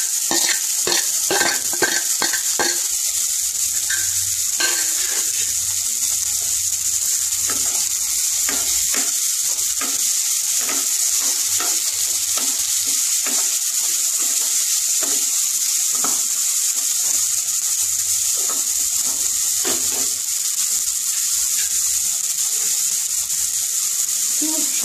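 Tomato added to a pan on a low gas flame for vegetable oats sizzles loudly and continuously, while repeated clattering strokes of a spoon stir it, busiest at the start and again near the end.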